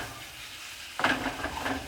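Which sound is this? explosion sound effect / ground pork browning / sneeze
ground pork browning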